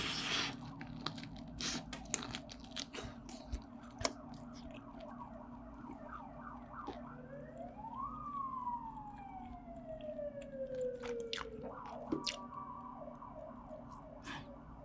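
A distant siren wails, sweeping up and then slowly falling in pitch, over a busy background of clicks and low hum.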